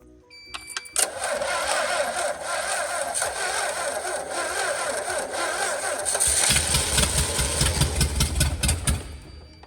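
A Mercruiser 3.0 boat engine that had been stuck, with oil added to the cylinders, cranks over with a loud, continuous whirring grind after a brief click, growing heavier and rougher near the end.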